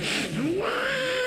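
At a comedy stage show, a performer's voice imitates a second cat with a changed tone, giving a loud meow that slides up and down in pitch over a noisy background.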